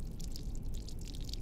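Inside the Shinkansen 0 video game, water trickles and drips steadily at moderate level, a continuous wet patter with scattered splashes and no talking.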